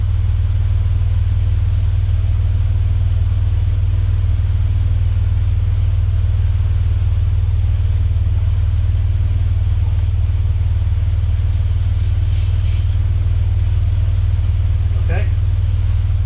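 A 12V electric tire inflator attached to a low car tire's valve stem runs continuously, a loud, steady, low droning hum that barely changes from start to finish.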